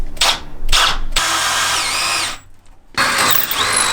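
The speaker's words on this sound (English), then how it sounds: "let's drill the holes and make this thing work." A power drill bores holes for a part on a clapped-out Mustang GT, with a few short bursts and then a long, loud whine that stops briefly and starts again.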